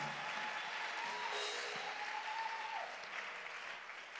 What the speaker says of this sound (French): Acclame très fort, acclame.